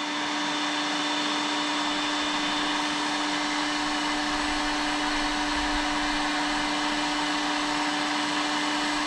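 A heat gun blowing hot air to soften craft foam for bending on a Halloween mummy puppet costume: a loud, steady electric whine and rushing airflow, constant and close, with no speech.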